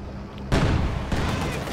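Heavy Dushka machine gun fire erupts in a Company of Heroes 2 battle, a sudden loud burst of dense rattling shots that keeps going past an earlier muffled lull, with a second surge near the end.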